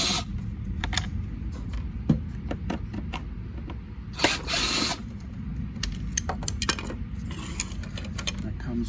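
Screws being backed out of the back plate of a Hoover Windtunnel bagless upright vacuum: close, light metallic clicks, ticks and small rattles in an uneven rhythm over a low steady background.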